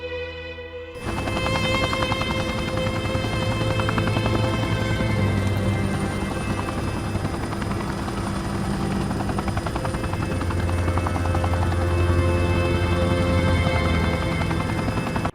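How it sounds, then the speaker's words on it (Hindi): A helicopter's rotor thumps steadily and loudly throughout, starting after a brief quiet moment, with a constant engine whine underneath. "क्या हेलीकॉप्टर में हो तुम?"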